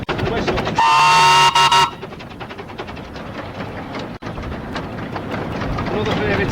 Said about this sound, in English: the whistle